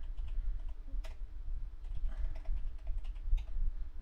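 Someone types a VLAN configuration command on a computer keyboard: a quick run of close, light keystroke clicks that continues steadily through a quiet room.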